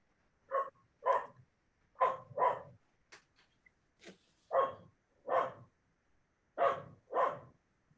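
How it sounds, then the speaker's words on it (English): A single dog barking in a steady series of about ten sharp barks, some in quick pairs, with quiet gaps between them, faint and distant, with no talk. "So Peter, while we're listening to your dog"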